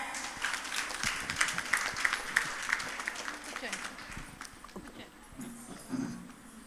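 Audience clapping at a cultural program during a three-day meditation gathering in Gudivada, a dense patter of many hands at moderate distance that swells and then thins out, with voices murmuring and talking underneath.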